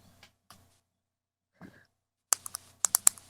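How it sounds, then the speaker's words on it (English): Loud typing on a computer keyboard: a few soft isolated clicks, a short pause, then a quick burst of sharp, close key strikes. "stop typing so loudly?"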